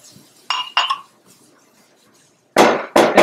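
A drinking glass, one of a grandmother's, clinks sharply twice, then after a quiet pause gives two more louder knocks, close by in a home kitchen. No speech is heard.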